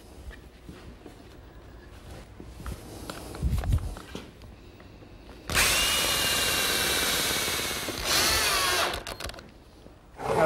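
A power drill drives 1 1/4 inch screws into glued plywood lap joints for a table saw station, one long whirring burst and a shorter second run close by, with footsteps and shop handling noises before them.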